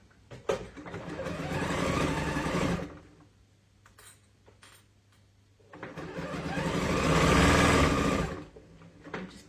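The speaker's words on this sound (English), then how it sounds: "Just bear with me while I stitch this." A sewing machine stitches sampler quilt blocks in two sustained whirring runs, each lasting several seconds. A quiet pause with light clicks falls between the runs, and no one talks.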